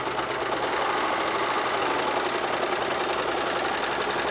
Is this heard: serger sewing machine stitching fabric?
yes